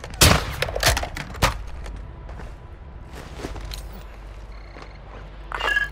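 Gunfire on Ashika Island in Call of Duty DMZ: a quick cluster of sharp, loud shots opens, then things settle into a quieter stretch before a final burst of noise.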